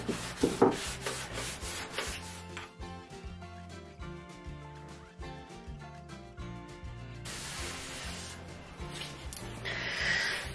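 A dish sponge rubs wax onto a painted wooden apothecary cabinet, giving soft, steady scrubbing strokes that sit beneath prominent background music throughout.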